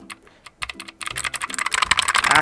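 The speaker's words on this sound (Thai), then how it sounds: "เสียงแบบสไตล์บูสวิตนะครับก็คือลงแก๊กหนึ่งขึ้นแก๊กหนึ่งนะครับ" Rapid typing on a SIGNO KB-791 RGB keyboard with optical switches, giving crisp, dense clicks that start sparse and build into a steady, loud clatter close to the listener.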